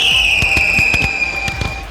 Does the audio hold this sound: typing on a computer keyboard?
no